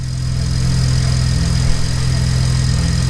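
A BMW E30 fitted with an N54 engine idles steadily and smoothly, with a low, even drone and faint mechanical hum, close and alone.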